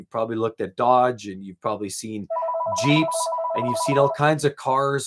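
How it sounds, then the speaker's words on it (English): A landline telephone on a car dealership lot rings with a steady electronic trill that keeps going for about two seconds, heard clearly beneath someone talking close to the microphone. "We have a little landline here that just kind of phones in"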